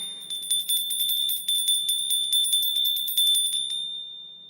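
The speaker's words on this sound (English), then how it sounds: "let's get another bell." A small bell rings rapidly in a quick series of bright metallic strikes, its clear ringing tone sustaining and fading out after the strikes stop.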